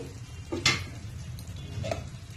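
A utensil stirs chicken gravy in a pan, with a couple of soft scrapes and light clinks over a low simmering background, faint and brief.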